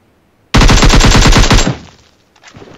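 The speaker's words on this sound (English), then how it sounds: "Do some more shooting." Automatic gunfire in the mobile battle-royale game PUBG Mobile, a loud, close burst of about a dozen rapid shots lasting roughly a second, followed by a fading tail and a faint later sound.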